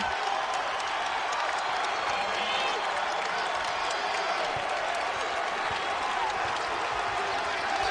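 Basketball arena crowd at a college game between Seton Hall and UConn roars and applauds after a 6-0 run, a steady dense wash of cheering throughout.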